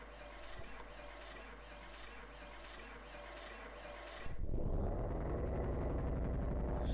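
Car engine in the video game Car Mechanic 2018, a steady idle that swells into a louder, rougher rumbling rev partway through and holds there.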